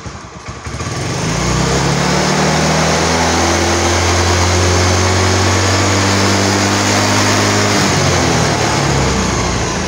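A Honda Beat carburetor scooter engine, in a check of an overcharging battery, idles up and then holds at a high, steady rev: a loud, close, buzzing drone alone that swells after the first second and stays constant.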